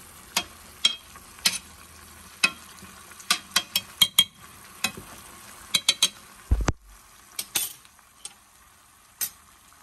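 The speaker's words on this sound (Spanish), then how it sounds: "Y lo vamos a estar moviendo para que no se vaya a pegar." Rancho-style chicken frying in a pan is stirred with a utensil, giving repeated clinks and scrapes against the pan over a faint steady sizzle, close up, with a short low thump partway through.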